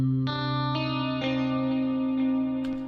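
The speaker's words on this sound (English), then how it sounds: "So let's try the compressor." Electric guitar through a compressor pedal in the Archetype plug-in, sustained bright chords re-struck every half second or so, evenly levelled and ringing with a shimmering, slightly distorted tone.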